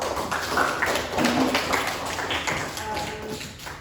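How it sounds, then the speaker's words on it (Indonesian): Students in a classroom clap together in a short burst of applause, dense patter of many hands close by, with a few voices mixed in as it fades. "Berikan aplaus dulu."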